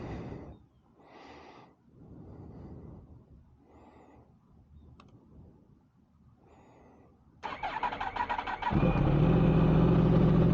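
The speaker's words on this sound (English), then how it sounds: "Do the cold start for you." Yamaha R1 motorcycle engine cold start, a few quiet fumbling sounds and pauses, then the starter catching and the engine firing into a loud, steady, rough idle close by.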